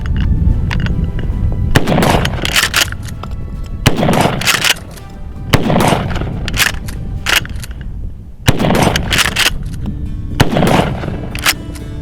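Repeated loud shotgun blasts from a Mossberg Shockwave firing number 4 buckshot without a side saddle, about six heavy booming shots spaced roughly two seconds apart, each ringing out with a sharp echoing tail, no talking.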